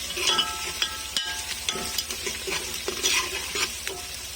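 Crushed garlic frying golden in a pan for a lauki aloo dish, with a steady close sizzle and several sharp scrapes of a spoon stirring it through about four seconds.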